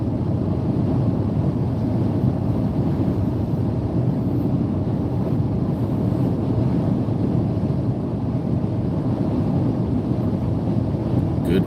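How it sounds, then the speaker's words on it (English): Steady, heavy wind buffeting a microphone inside a moving car on a windy morning drive, a continuous loud low roar that stays constant throughout with no other clear sounds. "Good windy morning."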